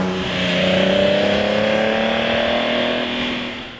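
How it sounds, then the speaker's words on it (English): A Nissan 240Z straight-six revs up loud and close, its smooth rising engine note swelling, holding, then easing off over a few seconds with no talk. "151 horsepower from a straight six that sounded so good, it fooled more than one journalist into thinking it was a Ferrari V12."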